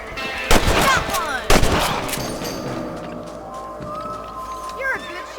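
Rifle shots at rabbits in Red Dead Redemption 2: two sharp gunshot bursts about a second apart with game sounds and dialogue running underneath, then quieter ambience with voices.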